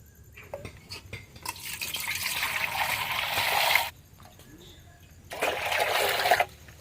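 Water pours into a bowl over freshly cut banana flower in a village kitchen, two bursts of splashing pour separated by a brief pause, close and fairly loud with faint background sounds.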